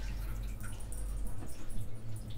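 Water is poured onto a potted mixed pothos plant, giving a steady low splashing and dripping hiss throughout, with no voices.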